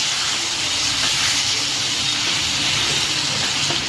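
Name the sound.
mixed vegetables sautéing in oil on low gas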